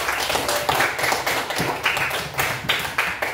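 A class of students applauding together, a continuous burst of many hands clapping at close range for a few seconds.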